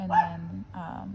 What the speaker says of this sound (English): he's barking at another dog who's barking